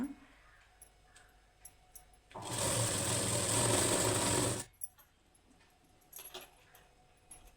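Sewing machine stitching a blouse seam, a loud fast run of stitches lasting about two seconds between quieter handling noises and light clicks of fabric and parts.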